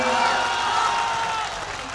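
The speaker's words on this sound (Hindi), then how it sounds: "तालियां बजा करके इजाजत दीजिए" A crowd at a 2013 Urdu poetry gathering in Jaunpur applauds in a continuous, even wash of clapping that fades slightly toward the end, with a murmur of voices blended in.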